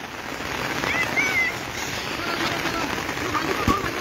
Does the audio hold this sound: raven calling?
no